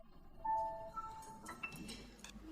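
Glasses clink together in a toast at a family dinner table, a few light bright taps around the middle of the clip over quiet room background with faint dish sounds.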